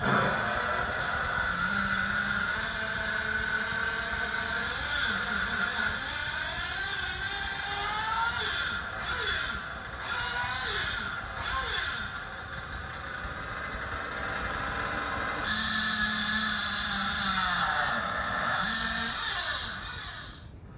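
A nitro-fueled RC engine runs on the bench for tuning. It gives a loud, high-pitched buzzing whine that wavers as the revs dip and rise, and it continues close and unbroken throughout.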